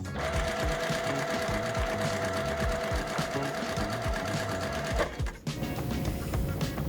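A sewing machine stitches a quilt seam in a fast, steady mechanical chatter that stops abruptly near the end, close and alone.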